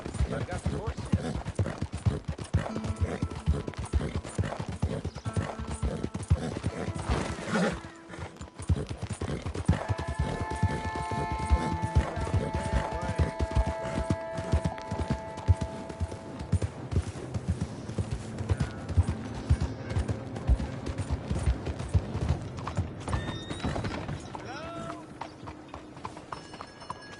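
Horse hooves clip-clop steadily in Red Dead Redemption 2, a rhythmic trot running almost the whole way under game music and background sounds, with a brief pause partway through.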